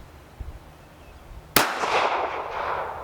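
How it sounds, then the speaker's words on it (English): A single sharp crack from a KelTec PMR 30 .22 Magnum semi-auto pistol on an outdoor range, followed by a long bright ringing as the round strikes a metal pin target, fading slowly over a couple of seconds. "Shot one of my pins."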